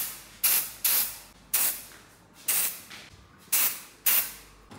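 Insect spray from an aerosol can aimed at flies indoors, six short sharp hissing bursts at irregular intervals, each cutting off with a fading tail, close and fairly loud.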